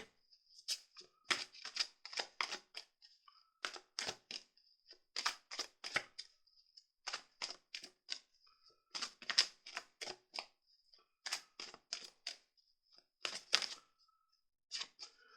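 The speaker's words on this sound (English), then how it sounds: "So I'm shuffling the cards pretty well" Rapid bursts of crisp card riffling and flapping, repeated in short clusters with brief pauses between, close and fairly quiet with no talking.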